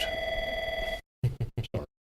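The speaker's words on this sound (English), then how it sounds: "We're sitting in a conference room and a phone gave us a ring here" A telephone rings in a conference room: a steady, loud electronic ring for about a second, a short pause, then four quick separate ring bursts.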